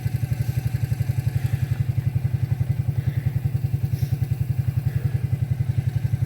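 A T-Bucket hot rod engine idles close by with a steady, rhythmic lumpy pulse of loud low thumps, running evenly throughout with no voices.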